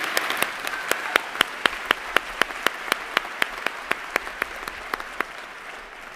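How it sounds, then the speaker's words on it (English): A graduation commencement audience claps steadily, with sharp individual claps standing out over the dense applause and fading slightly at the end. "Let's give them another round of applause."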